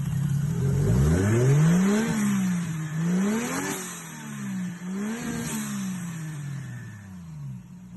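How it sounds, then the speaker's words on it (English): A 2JZ-GTE turbo car engine idling roughly, then revved several times in uneven swells, its pitch climbing and falling, loud and close with no talk over it. "just a basic little turbo setup, and the car, runs. I don't know, a little bit rough"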